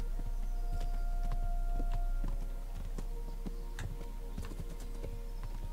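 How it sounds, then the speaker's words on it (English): Horse hooves clip-clop steadily in the video game Kingdom Come Deliverance, a rhythmic run of moderate thuds over a constant low hum, with no voices. "Come on, horse."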